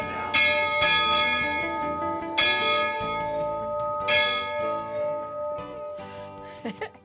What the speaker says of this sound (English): Somehow, I wasn't surprised when Irma rang the bell.